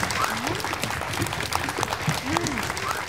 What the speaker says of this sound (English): And can we give them an applause?